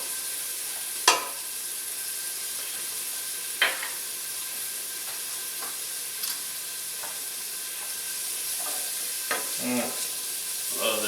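Onion and about three cloves of garlic fry in a hot pot with a steady close sizzle and hiss, broken by a few sharp stirring clacks of a utensil against the pot.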